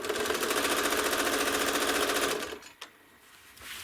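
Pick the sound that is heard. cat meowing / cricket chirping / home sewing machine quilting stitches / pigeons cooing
home sewing machine quilting stitches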